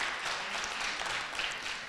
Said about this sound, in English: Please give both teams a round of applause for working hard to prepare for today's debate